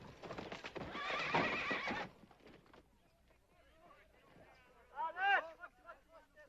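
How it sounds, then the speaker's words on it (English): A horse galloping hard with a burst of pounding hooves, then quieter movement and a sharp, close whinny near the end, in a Western ranch scene. "That's what I call riding a horse."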